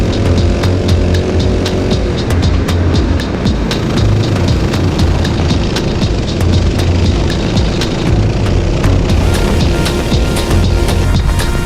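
Karts racing in a GX-UK heat at Rowrah, a loud continuous buzz of close two-stroke engines revving and shifting pitch, with several karts roaring together throughout.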